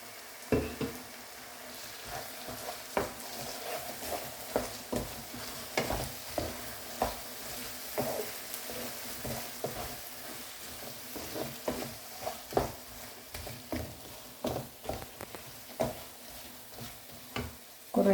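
Ground coconut paste stirred into a roasted-coconut chicken curry in a pan, Kerala style: repeated scraping clicks of a spoon against metal in an uneven rhythm over a low wet simmer and sizzle, close and fairly quiet.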